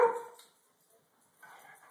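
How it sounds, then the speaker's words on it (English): A dog barks close by, one sharp bark at the start and then, after a short silence, a second softer bark. "What are you barking about?"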